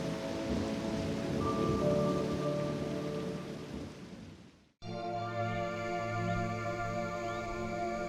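Steady rain falls on a hot, humid day in New Orleans East, a dense close hiss of drops for about five seconds before an abrupt cut to a quieter, tonal outdoor ambience.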